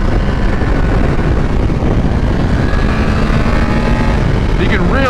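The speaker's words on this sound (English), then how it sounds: "You can really hear this thing open up now." BMW F 750 GS motorcycle engine revving hard on a dyno, a loud steady roar with rising harmonics toward the end, plus a burst of wind-like noise.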